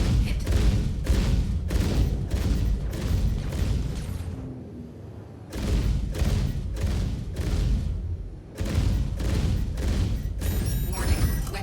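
Weapons on an F8C Lightning fighter in Star Citizen fire in loud, rapid bursts of repeated heavy shots, broken by short pauses, with faint synthetic voice alerts underneath.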